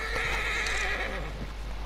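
Horse neighing in Red Dead Redemption 2, a loud, close whinny sustained through the moment, with a faint hoof clip-clop mixed underneath.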